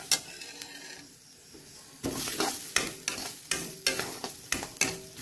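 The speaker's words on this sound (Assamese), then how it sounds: "এতিয়া মই নহৰু আদা জলকীয়া চব একেলগে খুব ধুনীয়াকৈ শুকানকৈ ভাজি লৈছোঁ।" Garlic, ginger and chili dry-fry in a pan: quiet at first, then a run of repeated scraping stir strokes with a light sizzle, close and steady, no voices.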